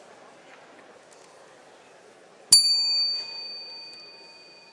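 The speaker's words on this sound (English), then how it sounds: "Press the bell, get going." A single bell struck to start the next speaker's turn at a church General Synod session, a bright metallic ding ringing out clearly and fading over a couple of seconds against quiet room tone.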